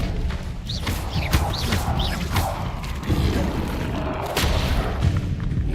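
Repeated Incendio fire spell casts in Hogwarts Legacy, a steady run of booming, whooshing blasts with sharp crackling bursts layered over a dense game soundscape, loud and continuous throughout.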